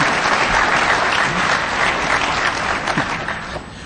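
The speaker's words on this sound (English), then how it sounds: "somebody give this man a round of applause." Crowd at the DEFCON hacker conference applauds, a loud sustained roar of dense clapping filling the room evenly before easing off slightly at the close.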